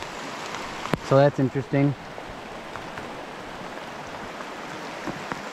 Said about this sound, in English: The rain's starting to let up now.